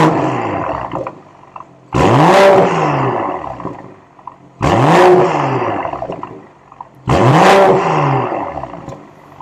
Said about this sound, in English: we're going to take a listen at the M Performance exhaust